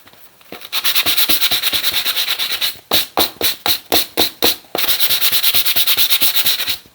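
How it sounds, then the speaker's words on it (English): Rapid rhythmic scratching of sandpaper rubbed back and forth against paper edges, loud and close, with a brief pause and slower strokes midway. "Sanding block, sanding paper, emery board, whatever you like."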